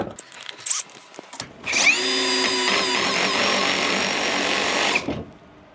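A ProCraft PA BL 12 cordless screwdriver whirs steadily for about three seconds at high speed, loud and close, preceded by brief handling clatter and ending abruptly as the trigger is released.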